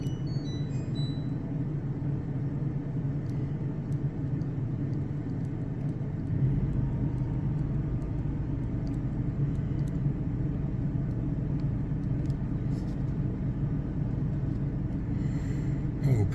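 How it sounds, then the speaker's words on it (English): A Predator 11500 generator powers a motorhome and runs as a steady, loud low drone. Its pitch and rumble shift a few seconds in as the AC load comes on. No one speaks. "you could hear the generator change tone a little bit"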